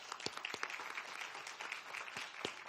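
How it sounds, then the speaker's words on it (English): Faint applause from the audience at a school board meeting honoring high school music, a thin patter of scattered hand claps with a few sharper individual claps standing out. "Let's have one more round of applause for everything music at the high school."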